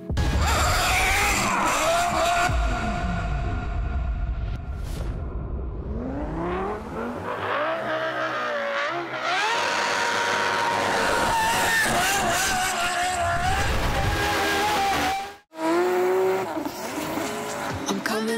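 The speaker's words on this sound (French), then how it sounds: "Ryan Turk au volant de sa Supra MK5 swappée avec un V10 de Formule 1" A Toyota Supra MK5 fitted with a Formula 1 V10 engine drifting, its high-pitched engine screaming and revving up and down with rising and falling sweeps, loud and close, with tire noise and a brief cut near the end.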